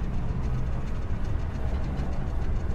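Steady rumble and rattle of a monorail train ride in Star Wars Jedi: Survivor, a continuous low rolling drone with faint rhythmic clatter, moderately loud and without speech.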